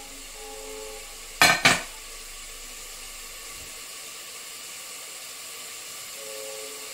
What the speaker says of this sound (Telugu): చూడండి, వేగుతుంది.